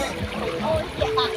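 A waterfall during a Khmer New Year outing gives a steady rushing wash of water, with people talking over it.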